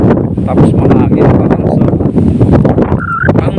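Steady wind buffets an outdoor microphone in a farm field with a constant low rumble, while a brief birdlike chirp rises near the end.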